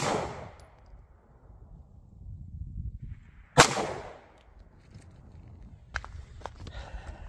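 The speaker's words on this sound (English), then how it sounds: "So we'll do a punch HST roughly about here and hopefully get captures this time." A pistol fires a .30 Super Carry round, Federal Punch or HST, into ballistic gel, one loud sharp crack midway through a quiet stretch, followed by a couple of fainter clanks and handling noises.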